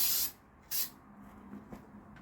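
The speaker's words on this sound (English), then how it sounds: "I'm going to spray a bit more." Two short bursts of aerosol spray inside a Land Rover Discovery 3 during pillar lining work, a longer hiss then a brief second one, with quiet handling noises in between.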